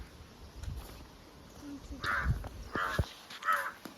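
A crow caws three times, clear and fairly near, in harsh evenly spaced calls over a low outdoor background hiss.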